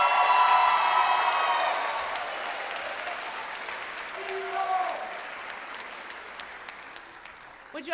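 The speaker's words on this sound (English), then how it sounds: "Let's give a round of applause to all of our graduates today." At a Wesleyan College commencement, a crowd applauds its Executive MBA graduates, with loud clapping and a few cheers that gradually fade, and voices rising briefly as it dies down.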